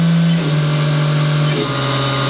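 Spindle of a Haas Super Mini Mill vertical machining center winding down from 10,000 RPM, a loud steady whine whose pitch steps lower partway through, with constant mechanical hum beneath and no talking.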